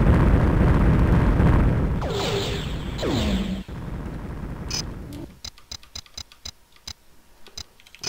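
Missile explosions in the space video game EV Nova: deep booms and falling whooshes rumble for several seconds, then give way to a run of sharp, rhythmic clicks and blips.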